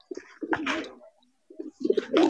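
Pigeons coo in soft, throaty bursts at a market pigeon seller's stall, two clusters separated by a brief pause, close by and unaccompanied by talk.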